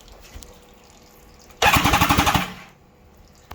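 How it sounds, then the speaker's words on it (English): A four-cylinder superbike engine cranks over on the starter in a rapid, loud, rhythmic burst lasting about a second, then dies away to quiet. "At least the engine's moving."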